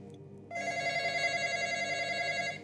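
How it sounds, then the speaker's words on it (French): A telephone starts ringing in a video game, a steady electronic bell tone that holds clear and even for a couple of seconds on its own. "Je vais répondre au téléphone."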